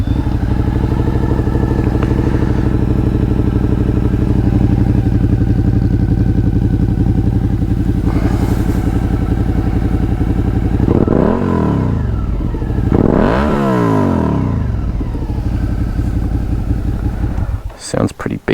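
A 2021 Suzuki SV650 with ABS, fitted with an aftermarket exhaust, idling steadily and loudly, then revved hard twice in quick swelling sweeps before settling and cutting off near the end.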